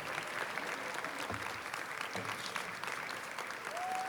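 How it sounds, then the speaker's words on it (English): Audience applause at a school board meeting honoring the Cypress Falls Golden Eagles boys basketball state champions, a steady, even wash of clapping from a room full of people, holding at the same level throughout. "I'd like to give a large round of applause to the Cypress Falls Golden Eagles boys"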